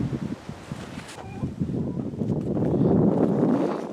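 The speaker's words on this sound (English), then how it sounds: "It's very windy out, so this is going to be fun." Gusty wind buffets the microphone outdoors in a garden, a steady low roar swelling stronger toward the end, with faint rustling mixed in.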